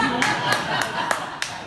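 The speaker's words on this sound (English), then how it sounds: "I can only assume you're either clapping for me or you really hate clapping." A stand-up comedy audience claps in scattered, uneven bursts, with a murmur of voices running underneath.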